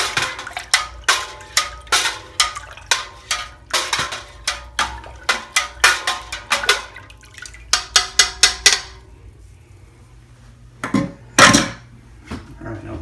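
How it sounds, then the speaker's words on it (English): Home-brewed wort for a Corona-style beer stirred vigorously in a fermenter: a fast, even run of sloshing, knocking strokes, then a pause and a couple of final swishes. "I'm going to stir all this up,"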